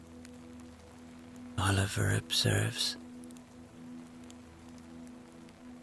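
Steady rain falls at night by a lake, a soft continuous patter with a low hum beneath it, while a voice narrates over it in the middle of the stretch.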